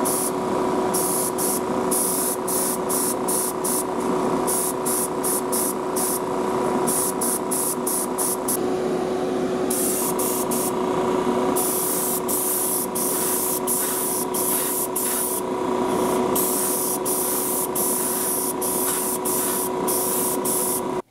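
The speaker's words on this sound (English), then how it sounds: "Just gotta reassemble the airbrush here." An airbrush sprays white paint in a steady, loud hiss that runs unbroken for about twenty seconds, its flow briefly dipping and resuming in short pulses.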